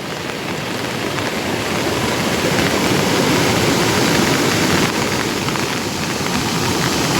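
Heavy rain pours down in a steady, dense hiss, constant and fairly loud throughout with no voices.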